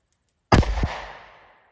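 A single loud gunshot from a .38 Special +P snub nose revolver firing Winchester Defender 130 grain rounds, a sharp close blast with a quick echo and a decaying ring after near silence.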